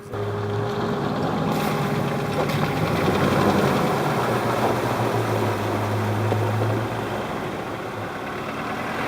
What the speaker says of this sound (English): We then hit a shallow watery section which gave the lads a chance to show their trucks off.